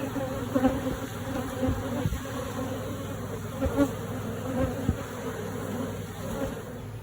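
Honey bees buzz at an open beehive while it is split and frames of honey are pulled. The drone is dense, steady and close, with occasional louder passes near the microphone and no voices.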